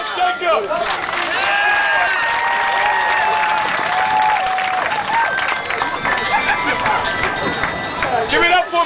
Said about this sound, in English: when I say their names, you guys clap for them so they can feel safe